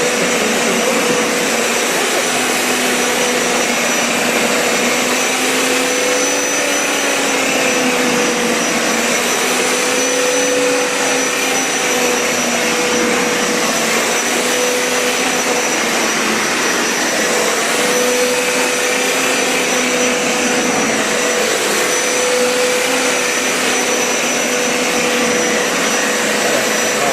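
A Hoover or Bissell pet carpet cleaner running continuously, a loud, steady whining motor drone with faint pitch wobble throughout, heard up close with no talking.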